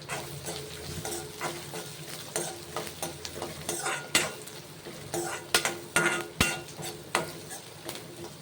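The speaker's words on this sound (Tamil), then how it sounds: "வெங்காயம் நல்லா வதக்கிச்சு" Onions sautéing in a pan for a fenugreek-leaf lentil dish, a soft steady sizzle broken by repeated scrapes and clinks of a spoon stirring against the pan, close and fairly quiet.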